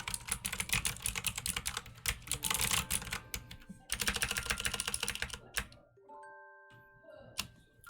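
Fingers clatter quickly across a clicky computer keyboard, close up, in dense bursts of keystrokes broken by short pauses. Near the end the typing thins out into a few soft tones.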